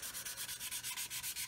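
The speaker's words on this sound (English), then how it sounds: "So I'm just going to sand over the top like this" Steady back-and-forth sanding on a plastic scale model part from a Roden C-141B Starlifter aircraft kit, an even rhythmic scratch repeating about eight times per second, close and fairly quiet with no talk.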